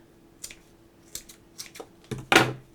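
Scissors snip through wrapped ribbon in a few quiet, separate cuts, with one louder, fuller snip near the end; close and alone, with no voices.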